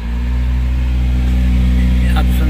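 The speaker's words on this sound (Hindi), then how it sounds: "इसका जो प्रॉब्लम है एसी के ब्लोअर में" Air-conditioning blower of a Maruti Suzuki Ritz car making an abnormal noise, heard as a steady, loud droning hum with a low rumble that runs continuously, with a faint brief rattle near the end.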